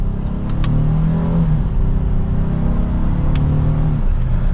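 A 2023 Honda Ridgeline RTL E's engine revs up after a paddle-shift downshift to second gear in sport mode, a steady loud droning rumble with rising pitch, heard from inside the cabin with no talking.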